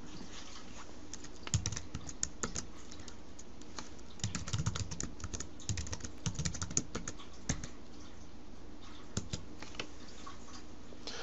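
Someone types a passphrase on a computer keyboard in an irregular run of quiet, close clicking keystrokes with short pauses in between.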